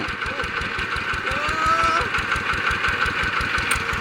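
A multipurpose water pump engine runs with fast, even, close firing pulses, revving a little higher as it goes, with a person's voice briefly over it.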